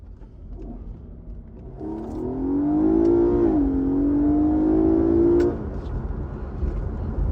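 An Infiniti Q50 accelerating hard in traffic, its engine rising in a loud climbing whine with a brief dip at a shift before continuing upward, then dropping back to a low cabin rumble.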